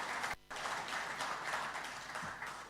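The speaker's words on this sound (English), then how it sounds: "Let's give a better clap for the chairman of IGAD" Audience clapping for the IGAD chairman during a State of the Region address, steady moderate applause from a hall full of people after a brief dip at the start.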